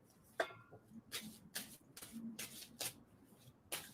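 Tarot cards being shuffled by hand, a series of soft, crisp riffling bursts at a fairly regular pace, close and quiet, with no talking.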